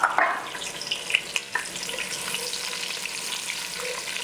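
Onion frying in red oil in a pot: a soft, steady sizzle with a few sharp crackles and stirring clinks near the start, heard close up.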